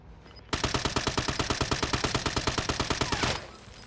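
Call of Duty Warzone gunfire rips out as one rapid automatic burst of about three seconds, a loud, evenly spaced string of shots that stops abruptly.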